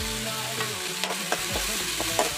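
Green chillies, curry leaves and ginger stirred in hot oil with onion in a pan, a steady sizzle broken by several quick spoon scrapes and knocks.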